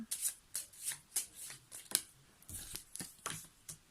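Tarot cards being shuffled by hand during a reading: a steady run of crisp, riffling flutters and soft slaps, repeating roughly every half second, close and fairly quiet, with no talking.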